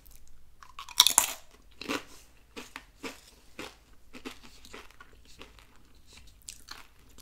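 Moe's tortilla chips dipped in salsa are bitten and chewed close to the microphone, a sharp loud first crunch followed by a series of irregular crisp crunches and chewing in an otherwise quiet room.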